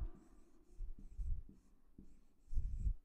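Handwriting an answer on paper, with soft pen or pencil scratching in short close strokes and brief pauses between words, no talk.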